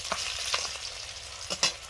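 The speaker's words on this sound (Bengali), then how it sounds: "আর এখানে ওই যে মাছ ভাজা হচ্ছে" Fish frying in a pan of hot oil in a home kitchen, a soft steady sizzle with a few brief stirring scrapes, fairly faint and heard alone.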